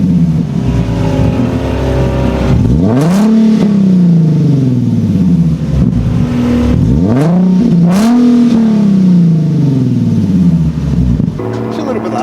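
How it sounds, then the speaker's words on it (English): Nissan 370Z Nismo engine with its exhaust resonators removed, revved twice in a row: each rev sweeps up loud and raspy and then falls back, over a steady idle, close by. "Let me give it a couple revs and we'll see."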